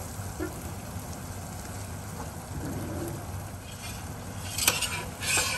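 Chicken for ghugni cooking in a pan on a stove at medium heat, giving a soft steady sizzle with occasional light stirring and a couple of faint metallic clinks near the end.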